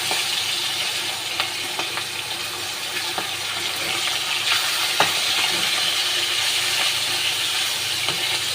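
Pieces of rui fish fry in a pan with a constant, close sizzle, punctuated by sharp scraping taps from stirring and turning, without any talk.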